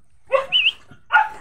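A dog close by gives three short, high-pitched yipping barks in quick succession, with a brief whimper-like tone between them.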